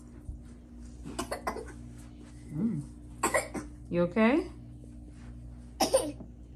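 A child coughs a few times in short bursts, with an adult speaking softly in between.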